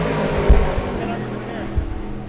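Race cars run on track at Sebring during the 1000 Miles of Sebring WEC race, their engines a distant steady drone with a couple of nearer thumps, heard beneath people talking.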